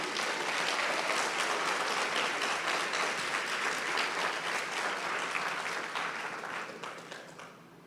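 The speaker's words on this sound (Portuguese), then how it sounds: "Pode aplaudir." A church congregation applauds in sustained, dense clapping that holds steady for several seconds, then fades near the end.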